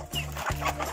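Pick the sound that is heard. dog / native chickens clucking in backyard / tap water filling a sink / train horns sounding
native chickens clucking in backyard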